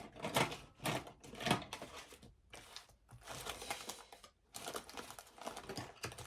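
Small scissors snipping through paper strips in a card-making craft session, a fast run of close, crisp cuts and rustles with brief pauses between bursts.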